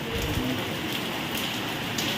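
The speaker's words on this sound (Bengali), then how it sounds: "দেখো বৃষ্টি পড়েই যাচ্ছে, কন্টিনিউ বৃষ্টি পড়ে যাচ্ছে" Continuous rain falls outside, a steady close patter on surfaces with a faint bird coo in the background.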